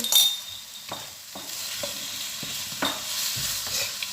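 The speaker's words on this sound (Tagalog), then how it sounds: "Igisa lang natin hanggang lumambot siya" Bitter gourd (ampalaya) sautéed in a pan with a steady close frying sizzle, broken by repeated scrapes and taps of a spatula as it is stirred, with no talking.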